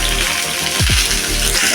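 Mango pieces lightly frying in a pan, a steady close sizzle with a couple of brief stirring scrapes near the middle, no voices.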